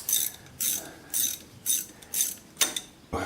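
A ratchet loosens a bolt on a hard tractor seat, giving about seven short, close clicking bursts at an even rhythm with brief pauses between them and no talking.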